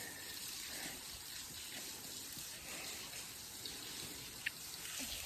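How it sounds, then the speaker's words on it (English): Small waterfall on the Borden Creek trail in Bankhead National Forest, a steady, soft hiss of falling water close by, continuous and fairly faint, with a single brief splash or tick near the end. "Pretty waterfall right here."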